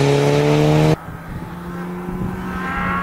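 An Audi Quattro rally car at a rally event, a loud engine note that cuts off abruptly after about a second, leaving a lower, quieter engine drone with a faint tire hiss that slowly builds.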